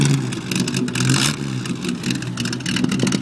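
A classic car's engine revs nearby, a loud continuous rising-and-falling roar that holds for a few seconds without a break.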